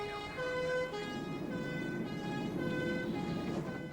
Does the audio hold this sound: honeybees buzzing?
no